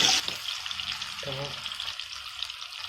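Tomato masala for chicken fry cooks in a pan over low heat, giving a steady close sizzle broken by a couple of stirring scrapes, with no one talking.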